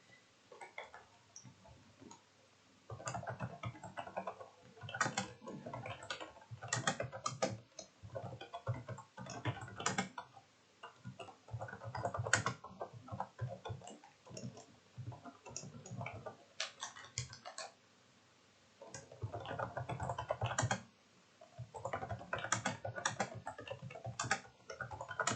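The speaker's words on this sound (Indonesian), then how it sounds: "kita bisa ketikkan" Rapid keystrokes clatter on a computer keyboard in irregular bursts of close, crisp clicks, separated by brief pauses and a longer quiet gap near the end.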